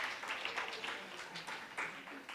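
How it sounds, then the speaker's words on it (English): A small audience at a Sunday community gathering claps in a brief, fairly quiet patter of scattered hands, with faint murmuring voices mixed in. "Give yourself a round of applause."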